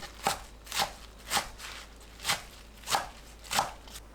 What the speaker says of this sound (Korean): 1cm 간격으로 썰어줍니다.